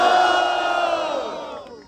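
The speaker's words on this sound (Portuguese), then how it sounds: "barulho quem gostou das rimas de Sabuó" Crowd at a rap battle cheering and shouting together, a dense roar that starts loud and tails off over about two seconds.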